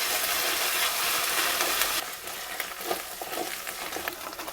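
Ginger-garlic paste and onions sizzle steadily in a frying pan for a Bengali potato curry, with a bright continuous hiss, scraping stirs and soft clatter from the spoon toward the end, close and alone with no talking.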